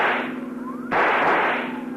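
A single sharp rifle shot cracks out once during a car pursuit, fired to blow out a car tire and cutting abruptly through a steady droning background.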